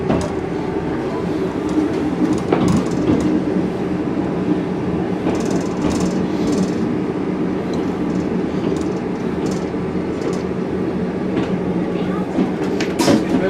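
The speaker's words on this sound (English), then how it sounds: "I'm going to film the train going out." A train pulls out of Barmouth station, a steady close rumble of wheels on rails with occasional clicks and squeals, while faint voices sound now and then.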